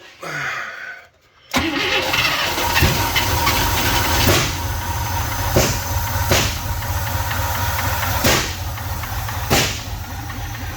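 A 1971 International Travelall 1210, revived after 22 years and suspected of a stuck exhaust valve, cranks and catches, then runs loud and rough with repeated revving bursts and hissy exhaust noise.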